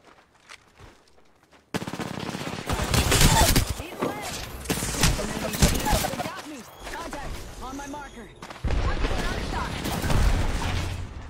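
Rapid automatic gunfire bursts in a fast online shooter match of Apex Legends, loud and dense, with a quiet lull at first and then sustained volleys and impacts through to the end.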